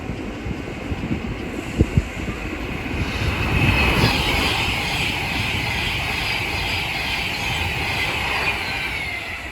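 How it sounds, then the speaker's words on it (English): An Avanti West Coast Class 390 Pendolino electric train, running from Manchester Piccadilly to London Euston, rushes past with a rising roar of wind and rail noise that peaks midway and then holds as a steady, loud rumble, with no talk. "here is an Avanti West Coast Class 390 Pendolino from Manchester Piccadilly to London Euston"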